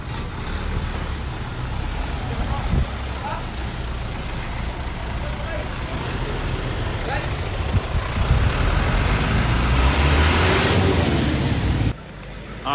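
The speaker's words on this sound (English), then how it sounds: "there's a little bit of road traffic here." Road traffic passes near an apartment in the Philippines, a continuous broadband rumble of car and heavier engines, building louder toward the end, with a voice talking over it.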